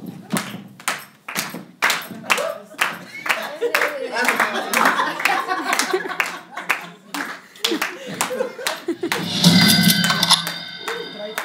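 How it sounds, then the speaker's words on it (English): Audience clapping at a live women's network gathering, sharp irregular claps that build into steadier group clapping over several seconds, mixed with voices and music. "Perhaps we can start with a clap."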